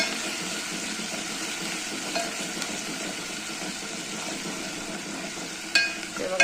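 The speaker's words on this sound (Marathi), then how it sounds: "हे आता आलं लसूणची पेस्ट टाकून घेते।" Ginger garlic paste sizzling in a pan, a steady close frying hiss with a few scraping stirs and clinks of the spoon near the end.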